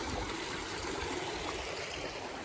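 A small stream trickles and burbles steadily, a continuous close-up water sound with no voices.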